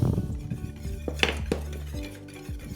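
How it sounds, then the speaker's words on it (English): Salt being stirred into English muffin dough in a bowl, with a utensil knocking and scraping against the bowl in a few close, moderately loud clinks and thuds. "all we're going to do is give that a good old mix"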